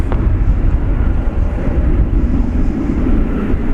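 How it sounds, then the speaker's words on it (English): An Aeromexico Boeing 737-800 airliner passes at a busy airport, a loud, steady low jet roar with broadband rumble filling the whole moment, close and unbroken, no voices. "An Aero Mexico 737-800."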